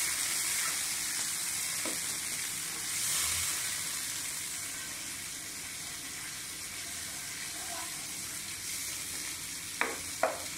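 Cumin seeds tempering in hot oil for rice, a steady close sizzle and crackle that runs throughout, with a few soft knocks of a utensil near the end.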